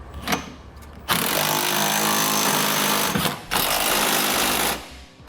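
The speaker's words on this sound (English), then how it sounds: "I'm going to come back to the 3/4 inch socket and I'm going to snug up all my hardware." Power tool with a 3/4 inch socket snugging bolts on a Curt trailer hitch receiver on a 2015 Mazda, two sustained loud buzzing whirs of about two and one and a half seconds, close up, no talking.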